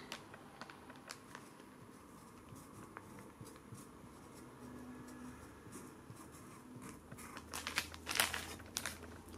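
A marker or pen writing on a wooden spoon for a herb label, giving soft, close scratchy strokes in short bursts with faint crinkly handling noises, no talking.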